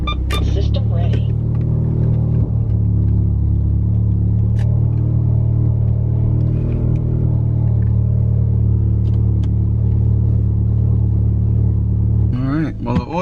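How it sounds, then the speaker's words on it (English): VW MK7 Golf R engine idling after a cold start, fitted with Brisk ER12 spark plugs: a steady low rumble that holds even throughout, close by, with faint voices and brief electronic tones near the end. "car should be nice and cold. Let's see how she idles."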